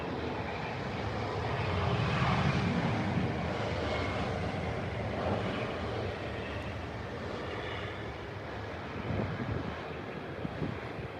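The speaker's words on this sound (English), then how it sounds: "I think that's the Qatar 777 coming in now" A Qatar Airways Boeing 777 comes in to land at Heathrow Airport with a broad, rumbling jet engine roar that swells and fades. Wind buffets the microphone outdoors and no one speaks.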